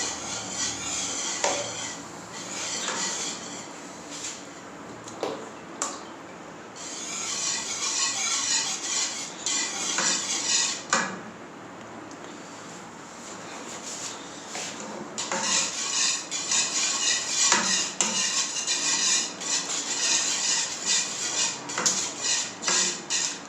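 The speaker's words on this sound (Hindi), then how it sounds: "क्रीम हमारी जो है बिल्कुल अच्छे से मिक्स होने लगी है" Cream being stirred and mixed in a dish for lab-e-shireen, a spoon scraping and clinking against the bowl in steady, close strokes, with brief pauses between bursts of mixing.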